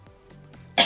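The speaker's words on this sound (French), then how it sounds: "maintenant c'est moi qui tousse" A single sharp cough bursts out close by at the very end, preceded by faint breathy throat sounds.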